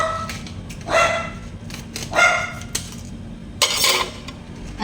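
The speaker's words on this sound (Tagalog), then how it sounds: "Ang ingay ng aking aso." A household dog barks three times in short, loud bursts close by, while a cook prepares lemon and pepper marinated chicken amid light kitchen clatter of dishes and utensils.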